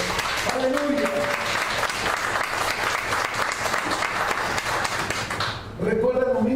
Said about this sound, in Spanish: Denle una ofrenda de palmas a él